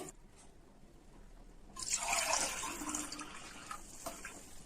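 Water poured into a cooking pot for a one-kilo chicken biryani, a close splashing pour starting suddenly after a quiet moment and continuing steadily before easing off, with no talk.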